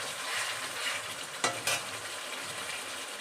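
Spice paste (masala) fries in a pan with a steady, soft sizzle. A spoon scrapes and stirs through it, giving two sharp clinks near the middle.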